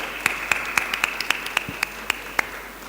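A run of about ten sharp hand claps at a steady, fairly quick pace at a corporate anniversary gala, over a faint steady tone, with no talking.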